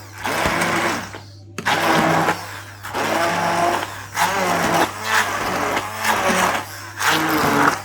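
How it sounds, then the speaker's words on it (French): A blender puréeing cooked vegetables roars loudly and close in several bursts, with short pauses between pulses and no talk. "Je viens juste de faire cuire les légumes et maintenant je vais le mixer."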